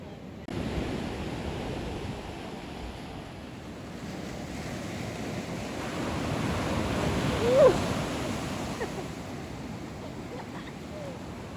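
Ocean waves roll onto a Costa Rica beach, a steady broad wash of surf with gusting wind noise and a slight swell near the middle, heard alone without speech.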